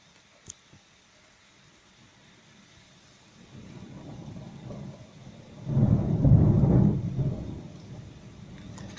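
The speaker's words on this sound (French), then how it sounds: "Là c'est vraiment l'orage, il se forme juste au-dessus de nous." A violent thunderstorm over Les Arcs-sur-Argens in the Var, with a faint early crack followed by thunder rolling in and swelling into a loud, deep rumble directly overhead, then fading, with rain hissing underneath.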